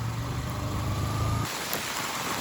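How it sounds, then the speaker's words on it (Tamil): Heavy rain pours down in a dense, steady hiss, its tone shifting slightly partway through, with no voices. "இப்போ மழையும் பயங்கரமாக பெய்யுது"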